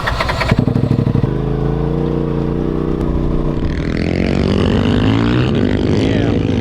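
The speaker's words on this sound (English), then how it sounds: "Alright, we're ripping around today on the Supermoto." A supermoto motorcycle engine roars up close and steady throughout, with a sharp rev near the start and then a sustained rising drone as the bike accelerates and pulls along.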